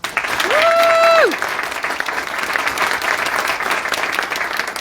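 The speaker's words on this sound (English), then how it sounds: "Let's give Ember a big round of applause" A school board meeting audience applauds a student being honoured, a dense steady round of clapping that holds throughout, with a brief rising-and-falling tonal sweep near the start.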